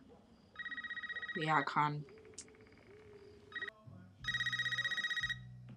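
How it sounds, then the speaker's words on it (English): A telephone rings in the movie Scream (2022), two bursts of a bright, warbling electronic ring separated by a brief moment where a voice speaks quietly. "Phone ringing."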